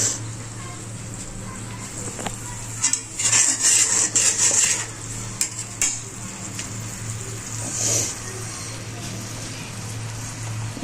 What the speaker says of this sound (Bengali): কাঁচা মরিচ ফোড়ানির মধ্যে দিয়ে ফেলছি যাতে নরম হয়